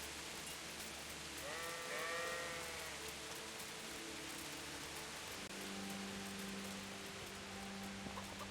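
A sheep in the video game Kingdom Come: Deliverance bleats a few times in quick succession over a steady hiss like rain, then the scene settles into a low, even hum.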